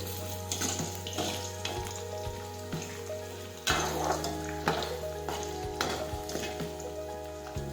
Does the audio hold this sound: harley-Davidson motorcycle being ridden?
no